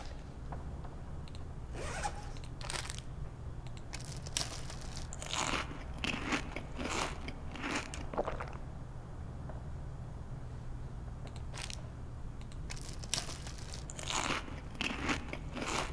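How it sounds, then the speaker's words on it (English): Crunchy MRE rations eaten in the survival game The Long Dark, heard as a run of dry, crackling, ripping crunches in irregular bursts over a low steady hum, close and moderately loud, with no talking. "Those MREs sound very crunchy."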